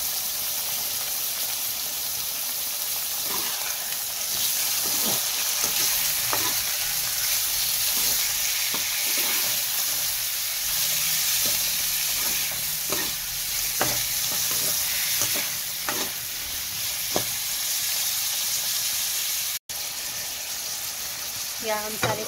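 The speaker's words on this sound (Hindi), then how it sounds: "अब हम इसमें कासी फल ऐड कर लेंगे और उसके बाद इसको 2 मिनट के लिए भूनेंगे" Pieces of pumpkin (kaddu) fry and get stirred in a pan, a steady close crackling sizzle running throughout, broken by repeated scraping and clinking of a spatula.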